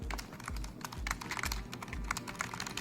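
Typing on a small, compact membrane computer keyboard, a steady run of soft, muffled key presses at close range, fairly quiet and alone, with a faint low thump recurring about every half second beneath the clatter.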